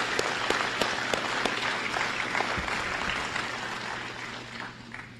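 An audience applauds young ROTC cadets at a Veterans Day program, steady sustained clapping from a crowd filling the room, fading slightly toward the end with no talk over it.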